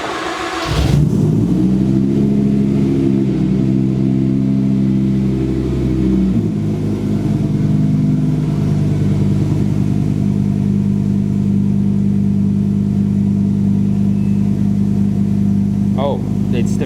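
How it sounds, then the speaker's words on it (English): An Audi R8 twin-turbo engine cold-starts on E85 fuel with a sharp crank and catch, then settles into a loud, steady, deep idle that drops to a lower, rougher rumble partway through. "it's the first cold start with the E85"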